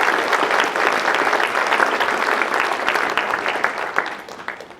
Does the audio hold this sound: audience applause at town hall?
yes